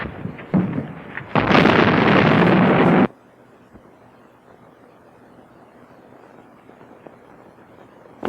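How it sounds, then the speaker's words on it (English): A bomb drops and explodes in an early 1930s film soundtrack, with a sudden loud, roaring burst lasting about two seconds that then cuts off abruptly to a faint, hissy background. "Drop that bomb as a warning."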